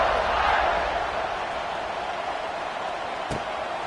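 A football stadium crowd before kickoff makes a steady, broad roar of voices at a distance, with a brief sharp noise near the end.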